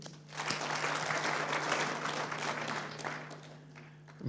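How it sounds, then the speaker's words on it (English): Steady audience applause at a conference, a dense wash of many hands clapping that swells and holds for several seconds, then begins to thin out, heard from within the hall. "Let's clap again."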